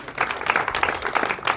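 A crowd claps at a community celebration, a brief burst of mixed applause, fairly close and dense, with faint voices underneath.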